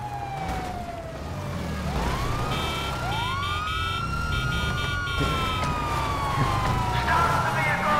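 A police car siren in the video game GTA V wails loud and close, its rising and falling tones repeating over engine and game noise for the whole stretch.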